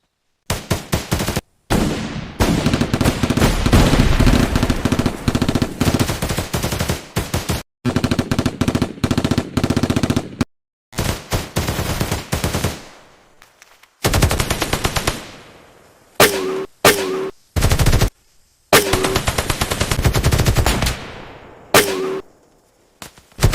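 Gunfire in a short film shootout: loud bursts of rapid machine-gun fire and single shots, broken by brief silent gaps, with several sharp volleys in quick succession.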